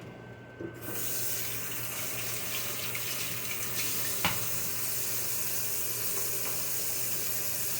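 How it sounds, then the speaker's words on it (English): A kitchen tap runs in a steady broadband hiss as hands are washed beneath it, with faint splashes and one brief sharp knock partway through, near and continuous after the water starts. "so let me wash my hands"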